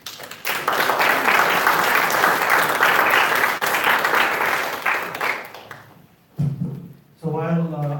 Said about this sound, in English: please help me have a warm round of applause